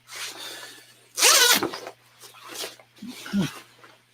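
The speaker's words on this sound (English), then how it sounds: "This zipper is big, chunky." A big, chunky zipper on a jacket is pulled in a loud, rasping burst near the middle, with lighter handling rustles around it and a voice talking in between.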